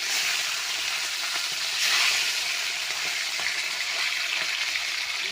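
Satin fish frying in hot mustard oil in a wok, giving a loud, steady sizzle with crackling spits throughout and no talking.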